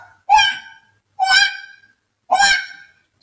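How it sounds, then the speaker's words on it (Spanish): A farm duck from a children's animated story quacks three times, each call loud, nasal and honking, spaced about a second apart with silence between and no other sound. "El pato graznó:"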